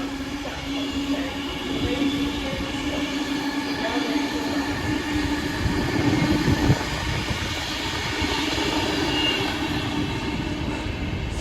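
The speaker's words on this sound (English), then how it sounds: "passing through now is an Avanti West Coast service to London Euston" An Avanti West Coast train bound for London Euston passes through a station platform, producing a loud, continuous rumbling roar with a rhythmic rattle of wheels that stays close and steady throughout.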